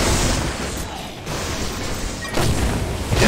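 Heavy gunfire and explosive booms rumble through a team deathmatch on The Crucible map in Unreal Tournament 3, a dense, continuous barrage with a dip near the middle and fresh loud bursts toward the end.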